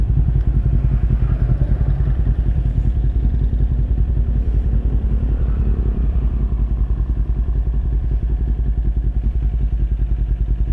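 A Kawasaki Ninja 400 with a check engine light showing error code 21 runs steadily along a street in the early morning, its loud, close engine droning with a continuous low rumble and faint clatter.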